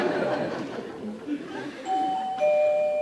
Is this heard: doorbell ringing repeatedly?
yes